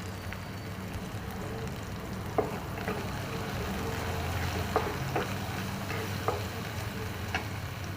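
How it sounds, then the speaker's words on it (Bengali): Garlic, ginger and green chili sizzle steadily in hot oil in a pan for a home dal fry, a continuous close frying hiss with a few light clicks of stirring, no voices. "একটু রসুন দিলাম, আদা কুচি একটু দিলাম, কাঁচা লঙ্কা কুচি দিলাম"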